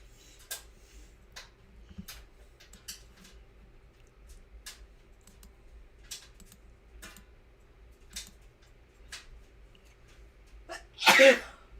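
One loud, sharp sneeze bursts out near the end, after a long stretch of faint regular ticking and soft background noise during a live reaction to a Mets versus Athletics baseball game.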